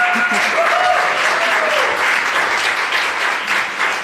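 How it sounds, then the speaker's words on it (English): A summit audience claps warmly after a speaker's talk, a loud, steady wash of applause that eases slightly toward the end. "the applause is yours"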